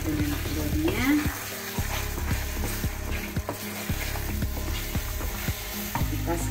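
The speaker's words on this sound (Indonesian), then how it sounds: "Kita sekarang aduk lagi biar bumbunya semua merata juga dengan telurnya" Scrambled eggs with spinach sizzling in a frying pan while being stirred, a constant loud fry with regular spatula taps and scrapes against the pan, close by and without speech.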